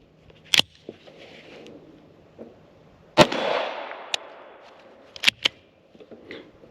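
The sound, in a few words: gunshots from FN 502 .22 pistol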